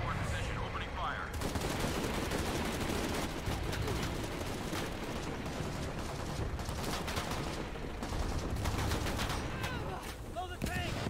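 Dense, sustained gunfire from soldiers in a Shadow of the Tomb Raider battle, rapid automatic bursts layered over one another with hardly a gap, loud and continuous throughout, with voices calling out faintly underneath.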